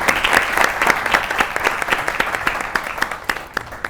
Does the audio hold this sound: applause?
yes